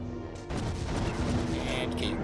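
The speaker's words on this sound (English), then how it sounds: "Cannons are doing pretty good against these guys." Cannon turrets fire in the tower-defense game Defense Grid: The Awakening, a burst of booming shots that starts abruptly partway in and continues as a dense rolling barrage.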